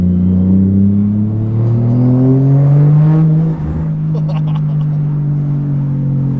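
A 450 hp Toyota Chaser's 1JZ engine drones loudly from inside the cabin, its pitch climbing smoothly as it revs up, then dropping and settling into a steady hum.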